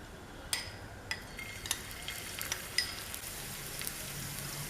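Chopped garlic and green chilies fry in hot oil, a soft steady sizzle with a few sharp clinks of a utensil against the pan, fairly quiet and close, with no voices.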